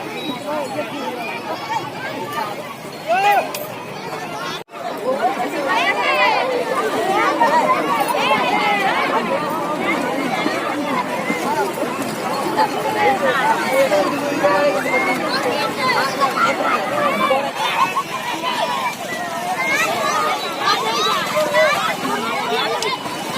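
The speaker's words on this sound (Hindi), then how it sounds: "आप देख सकते हैं यहाँ पर कितना ज़्यादा भीड़ लगा रहता है।" Dense crowd babble at Belaur Surya temple, many overlapping voices chattering steadily at a constant level throughout, with a brief dip and thump near the start.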